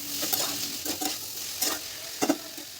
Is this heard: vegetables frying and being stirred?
yes